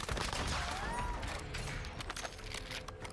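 Dense bursts of gunfire in the shooter game Warzone rattle in a rapid, continuous stream, fairly loud and close, with quieter shots trailing toward the end.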